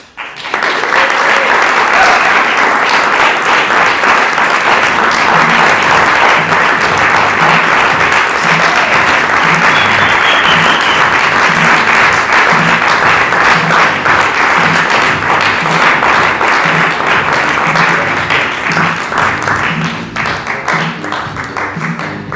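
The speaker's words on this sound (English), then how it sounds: "one more round of applause for our beautiful cast" A theater audience applauds the cast at the close of a stage show by a returned citizens troupe, a dense, steady wash of clapping that holds loud for over twenty seconds before thinning slightly at the end.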